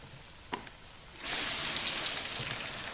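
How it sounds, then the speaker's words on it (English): Food frying in a pan in the cooking game Venba, where tomatoes and tamarind water go in: a quiet faint click, then a sudden broad steady hiss of sizzling begins and runs on loud and continuous to the end. "Frying seems to release a lot of water."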